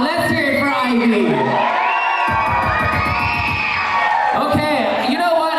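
Wedding guests cheering for Ivy at a reception, a loud mix of whoops, shouts and crowd noise close by, with rhythmic pulsing in the middle and voices calling out throughout.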